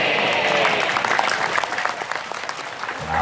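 Audience applause at a religious lecture gathering in Indonesia, dense and steady clapping that fills the room and then trails off near the end.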